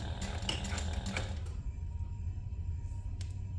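A sewing machine runs in a quick burst of rhythmic stitching along a bag seam, then stops, leaving a low hum and a faint click.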